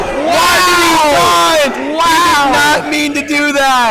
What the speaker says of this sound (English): Crowd's getting involved now.